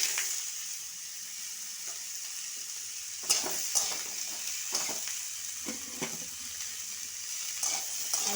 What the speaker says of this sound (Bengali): এই সবজিগুলো আমি ভেজে নেব হালকা করে।